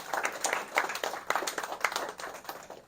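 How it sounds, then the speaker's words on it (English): An audience at a business talk claps briefly, a close, uneven patter of many hands in scattered bursts. "Thank you for that Baptist clap."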